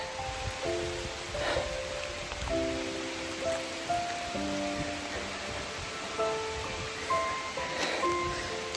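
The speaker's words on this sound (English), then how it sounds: "It's starting to rain." Rain patters steadily on leaves and ground along a forest trail in Red River Gorge, a soft, even hiss with occasional nearer drops, while faint tonal notes drift through the background.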